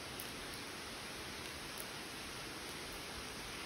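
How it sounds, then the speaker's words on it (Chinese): Water flows down the rocks inside a large cave after recent rain, making a steady, even, hissing wash that continues without a break at a fairly low level. "倒是有从岩石上面有流水下来"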